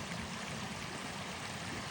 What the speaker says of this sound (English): that amount of water coming from that void does not appear to be coming from that far end